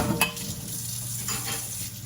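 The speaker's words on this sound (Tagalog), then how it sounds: "Ayan, hugasan ng kaldero." A cooking pot is scrubbed and washed, with continuous scraping and rubbing interrupted by light clinks of metal against cookware.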